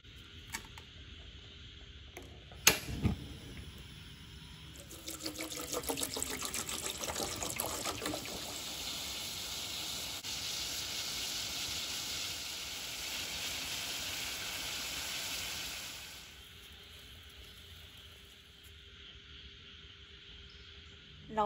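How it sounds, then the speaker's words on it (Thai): Water for a roselle (dried hibiscus) drink makes a steady close rushing, trickling sound for about ten seconds, after a single sharp knock, with no talking. "น้ำเราจะต้มน้ำกระเจี๊ยบกันนะคะ"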